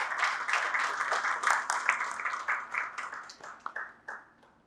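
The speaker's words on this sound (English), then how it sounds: "a huge round of applause" An audience claps steadily for a few seconds, the applause thinning out and fading to silence.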